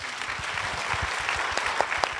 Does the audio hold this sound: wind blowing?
no